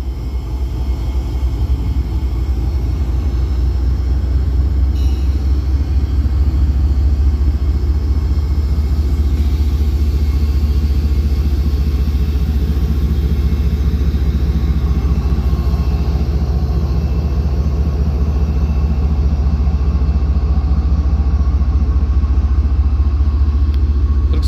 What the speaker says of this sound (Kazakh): Ал пойызымыз жүріп жатыр.